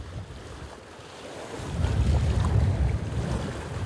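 Wind blowing hard at a rocky lake shore, a steady broad rush that builds in loudness partway through, with gusty microphone buffeting and possible lapping water, no speech.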